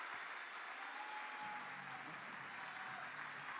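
An audience claps steadily in a hall, standing to honour crystal-rank members at a Live to Lead business event, a dense, even wash of applause with a faint tonal whine running underneath.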